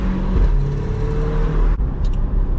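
Loud, steady engine drone of a C8 Corvette while driving, close and continuous with a brief dip partway through, no talking.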